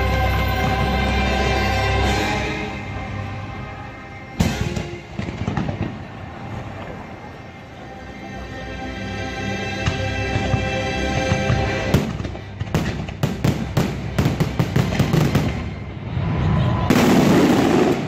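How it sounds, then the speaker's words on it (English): Expensive fireworks bursting outdoors in a steady series of loud booms and crackles, with a rapid cluster of sharp reports toward the end. "these are expensive fireworks"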